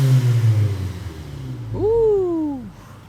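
A Volkswagen Golf GTI Mk7.5 with a rebuilt EA888 engine making 300+ hp idles with a low hum, then gives one sharp rev that climbs, holds briefly and sinks back over about a second.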